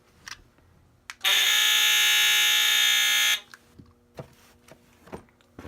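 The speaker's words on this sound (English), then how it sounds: "There's the SLYFOX Alarm 8008." A SLYFOX Alarm 8008 fire alarm panel blares a loud, steady electronic alarm tone for about two seconds. Quieter clicks and handling sounds come before and after it.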